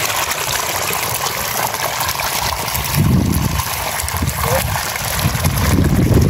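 Water gushes steadily and loudly up close while watering watermelon plants, a constant rushing flow with slight surges partway through.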